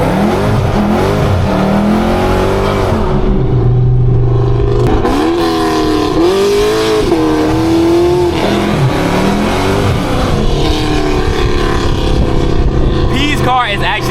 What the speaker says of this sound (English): P's car is actually like insanely loud, bro.